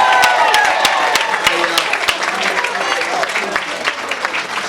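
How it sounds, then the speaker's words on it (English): Audience applauding at an open house evening event honoring a local figure, steady dense clapping filling the room with some crowd murmur and voices mixed in throughout. "let's give a round of applause for Jay Lynch"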